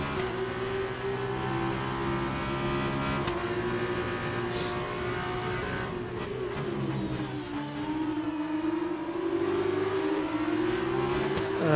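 F2 race cars in the F1 2019 video game roar along at high revs, with a steady engine whine that shifts pitch as gears change, several cars running close together without pause.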